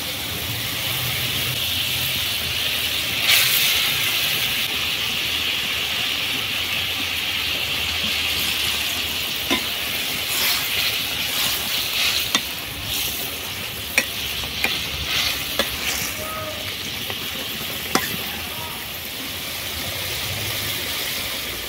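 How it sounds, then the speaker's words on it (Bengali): Pabda fish curry bubbling in a pan with crushed green chillies, giving a steady close sizzle and simmer throughout with occasional small clinks and pops. "ঝোল ফুটে গেছে"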